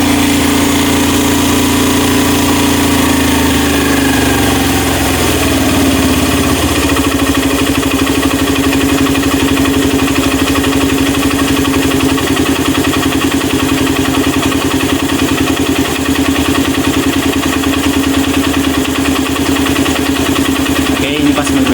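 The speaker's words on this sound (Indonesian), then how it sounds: "Kalau suaranya sudah meninggi, baru kita setel idle-nya Mas Bro." Honda Mega Pro Mono motorcycle engine running continuously during idle adjustment, a loud steady single-cylinder putter whose pitch settles lower partway through, with someone talking over it.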